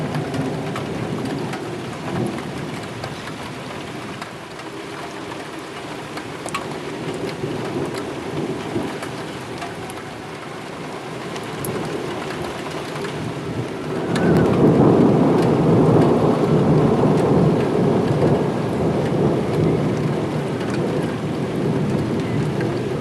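Strong summer thunderstorm over Sallanches: steady heavy rain with rolling, rumbling thunder throughout, swelling into a louder, denser downpour and roar about two-thirds of the way through, with no voices.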